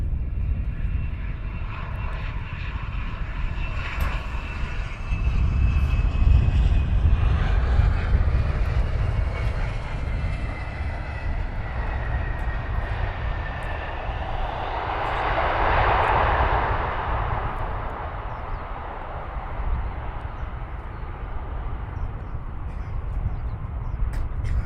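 An EasyJet airliner at Luton Airport gives off a steady, moderately distant jet engine roar with a whining tone, swelling slightly around the middle as it passes, with no voices.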